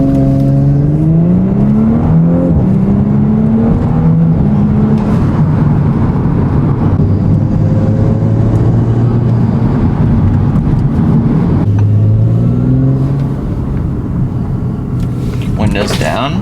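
Audi S4 turbo engine fitted with carbon intake and turbo inlet, heard from inside the cab: a loud, steady rumble with rising and falling harmonic whine as the engine revs through gears, continuous throughout.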